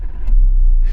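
A Toyota Innova Crysta engine starts and settles into a low, loud rumble, heard close with no talking.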